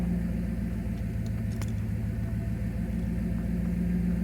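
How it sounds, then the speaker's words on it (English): A truck engine idles while warming up, a steady low rumble, loud and close, continuing unchanged throughout with faint clicks above it. "we're letting the truck run to warm up"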